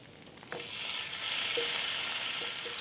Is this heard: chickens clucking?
no